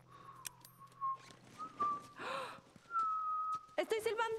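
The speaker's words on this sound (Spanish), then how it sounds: "¡Estoy silbando!" A character in The Last of Us whistles a few short, thin notes, with breathy gasps and a clattering burst of noise between them.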